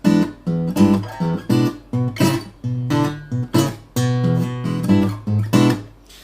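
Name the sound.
fingerstyle blues guitar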